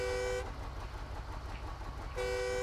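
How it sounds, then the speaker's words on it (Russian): Horn of a Type-73 Large Truck in the SnowRunner video game: a clear tonal blast at the start and another near the end, with a low engine rumble running beneath and between them. "Заодно показал вам клаксон."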